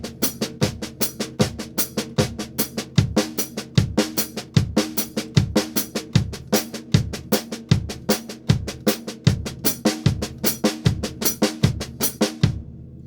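Drum accent pattern played with alternating right and left hands, a fast even stream of strokes with louder accented hits shifting position through the beat, each accent placement repeated four times, close and unaccompanied.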